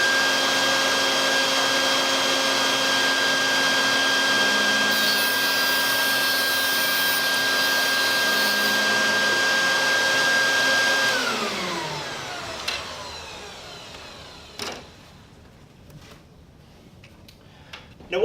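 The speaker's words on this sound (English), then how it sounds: "We have a dust collector capture vacuum here." A dust collector capture vacuum runs beside an arrow-shaft cutting setup for carbon target arrows, a loud steady whooshing drone with a tonal whine that winds down after about eleven seconds, leaving quiet clicks and bumps.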